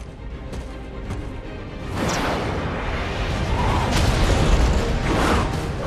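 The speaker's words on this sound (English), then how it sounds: "However, after the explosion was activated, Batman shielded Martha and successfully rescued her." An explosion in a DC superhero film scene: a rushing whoosh builds into a loud, sustained blast and rumble with debris crashing, filling most of the six seconds.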